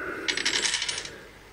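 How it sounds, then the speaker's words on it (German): Metallic coins clink and drop in a quick cluster of bright jingling hits from the Coin Dozer Pirates arcade game, fairly close and fading out after about a second. "dann kommen alle 10 Sekunden wieder eine Münze dazu"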